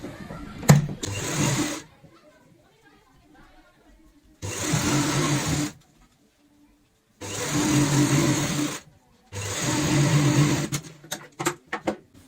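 A sewing machine stitches a zip onto a cushion cover in three or four bursts of steady whirring run, separated by quiet pauses with faint handling sounds, heard up close.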